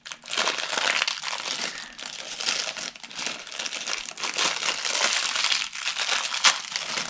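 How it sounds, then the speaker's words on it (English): The plastic bag from a Lego Star Destroyer set is torn open and handled nearby, giving continuous crinkling and crumpling in uneven bursts with brief pauses between them. "You have to open this bag."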